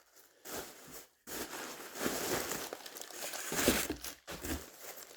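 Loose packing material crinkles and rustles in bursts as a box from Antics is unpacked, close and fairly quiet, with brief pauses between handfuls and no talking.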